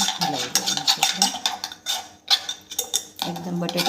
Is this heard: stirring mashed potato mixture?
yes